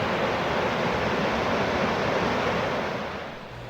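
Thunder Creek rushes beside a hiking trail near Diablo Lake, a steady, close broadband wash of flowing water that eases slightly at the end.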